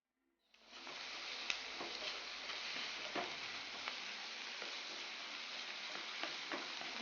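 Sliced onions sauté with salt in a pan, giving a steady, even sizzle that starts abruptly and carries on alone with faint stirring scrapes.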